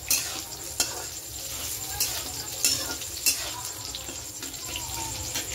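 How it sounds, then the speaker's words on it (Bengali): Soybean chunks fry in a pan with salt, giving a steady sizzle broken by several sharp clinks and scrapes of a utensil at irregular intervals, close and moderately loud. "এই দেখো সোয়াবিনটা বসিয়ে দিয়েছি ভাজা"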